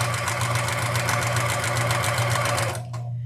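Electric sewing machine running steadily while stitching quilt squares for a beginner nine-patch quilt, a continuous close whirring hum with fast rhythmic needle chatter that cuts off abruptly near the end.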